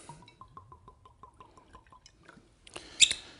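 Ardbeg single malt whisky, a smoky peated Scotch, poured from the bottle into a glass: a quick run of glugging drips followed by a brighter clink and splash near the end, close and fairly quiet.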